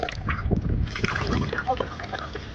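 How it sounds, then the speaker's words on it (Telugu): Water poured from a bucket near a well pump motor, a steady close slosh and splatter of liquid running continuously. "నీళ్ళు పోసేద్దాం."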